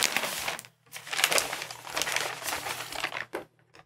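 Crinkling plastic bag, loud and close, in several bursts of rustling with brief pauses between them.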